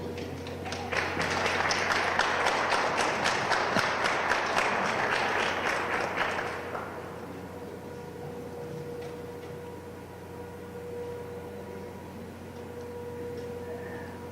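An audience at a formal talk with congressional officials gives the speakers a warm round of applause, steady dense clapping for about six seconds before fading into quiet room tone.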